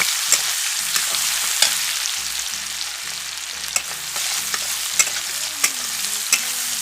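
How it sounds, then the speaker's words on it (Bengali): Chopped onions fry in a pan with a continuous, close sizzle while a utensil stirs them, scraping and tapping at irregular intervals; no voices. "দিয়ে দিচ্ছি কুচনো পেঁয়াজ। পেঁয়াজ নাড়াচাড়া করে নেব।"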